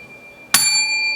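A bright bell ding used as a subscribe-notification sound effect strikes once, sudden and loud, leaving a clear metallic ring that sustains and slowly fades.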